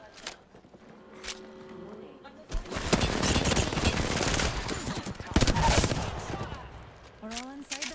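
Dense automatic gunfire from an Apex Legends match erupts after a quieter opening and keeps rattling in rapid bursts with sharp single cracks, loud and close, while game voice lines and chatter sound at the start and end.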